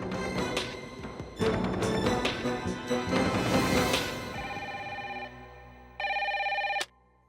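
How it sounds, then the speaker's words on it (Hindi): A telephone rings with a steady electronic trill in a short burst, following a stretch of busy music and clatter, then stops abruptly. "मिसेस खरबंदा, आपका फोन है।"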